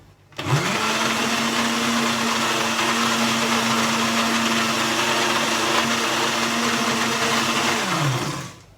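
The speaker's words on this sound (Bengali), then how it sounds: "যেহেতু চিনি দিয়েছি, চিনিটা না গলা পর্যন্ত আমি একটু ব্লেন্ড করবো।" A blender whirs steadily for about eight seconds as mayonnaise and sugar blend together, spinning up sharply at the start, holding a constant loud hum and winding down at the end, with no talking.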